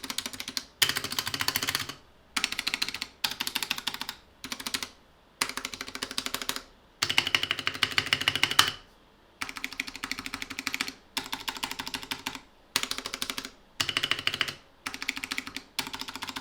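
Keys clatter on a modded mechanical keyboard with stabilizers, fixed for stabilizer rattle, in close, brisk bursts of rapid typing broken by short pauses.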